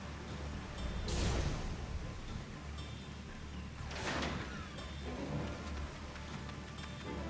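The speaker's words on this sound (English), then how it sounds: "it's pouring down rain" Heavy rain pours down steadily in Final Fantasy XIV, a dense broadband wash with two louder swells that hint at distant thunder rumbles, no voices present.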